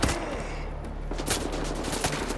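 Dense, continuous gunfire from a video game set in Wolfenstein: The New Order, a steady rapid stream of shots with a few louder bursts, close and loud throughout.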